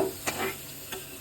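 Cut potato pieces going into hot oil with salt and turmeric for a raw-banana kofta curry, giving a soft frying hiss with a few light stirring clicks and taps, close and moderately quiet.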